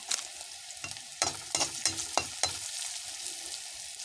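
Spices and chili powder frying in hot oil for a cabbage dish, a steady close sizzle broken by several sharp stirring scrapes and clatters in the middle, with no talking.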